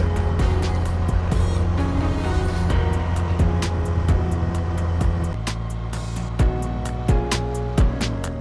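A Benda Rock 250 motorcycle engine runs near the Bosphorus with a steady low droning hum, while sharp clicks and short revving shifts in pitch come in toward the end.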